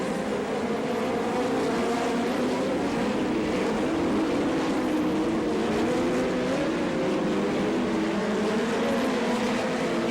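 Sprint cars race down the back stretch at Attica, Ohio, a sustained droning engine roar with wavering pitch that holds steady throughout, mid-distance and continuous.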